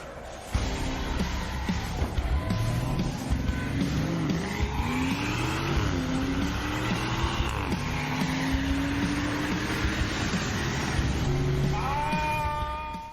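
A Porsche Cayenne drag-races a BMW and a Tesla Model X: loud, close engine roar held for the whole stretch, with pitch sweeping upward through gear changes and a faint tire squeal near the end.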